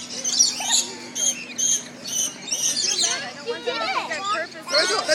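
A pet bird chirps in repeated short, bright tweets close by, mixed with people talking nearby in a room.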